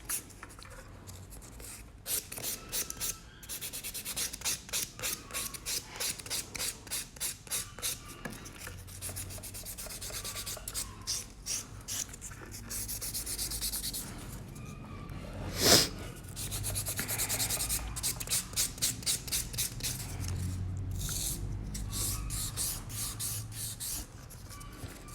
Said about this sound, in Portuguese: E essa lixinha aqui, ela chama lixa buffer, tá?